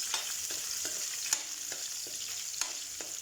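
Onion and garlic sizzle in hot oil in a pan while cooking squash, a steady soft frying hiss broken by occasional scraping and stirring clicks, close and alone with no talk.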